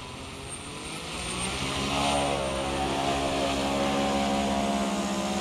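RC V-22 Osprey model aircraft whirs with a steady propeller and motor drone during test flight, rising in loudness then holding close and continuous.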